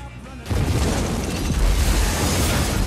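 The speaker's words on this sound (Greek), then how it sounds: "Με τι άλλο θα μπορούσε να ξεκινήσει αυτή η ταινία από μία έκρηξη" A huge explosion from the opening of the 1995 film Die Hard with a Vengeance erupts after a brief quiet moment into a loud, sustained roaring blast with rumbling debris that fills the whole stretch before cutting off.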